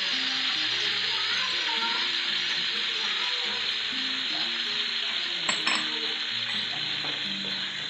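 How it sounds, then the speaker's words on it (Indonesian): Minced garlic fries in melted butter in a pan, giving a steady, close sizzle that runs unbroken throughout, with a brief clink of a utensil about midway. "Dan cukup cair, kita masukkan bawang putih yang telah dicincang."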